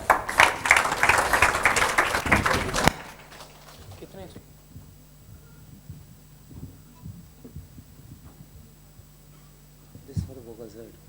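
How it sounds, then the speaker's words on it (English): An audience applauding a singer of Bollywood acoustic music on stage, with dense, loud clapping for about three seconds that cuts off abruptly, followed by quiet room hum and faint handling noises. "Let's give a huge round of applause for him."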